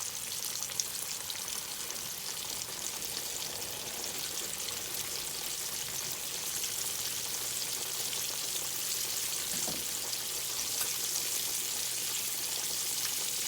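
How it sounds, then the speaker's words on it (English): Pork chops fry in hot oil with a steady, dense sizzle and crackle that holds evenly throughout, close and moderately loud with no talking. "And now I'm just going to try to get them all 3 down in the oil because I want them to be flat."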